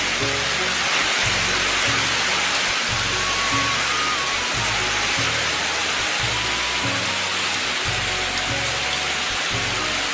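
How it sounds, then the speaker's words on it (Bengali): Dense, steady downpour of heavy rain hammering on surfaces, loud and unbroken throughout, with no voices. "দেখেন কি বৃষ্টি হচ্ছে ঘুমার মতো বৃষ্টি"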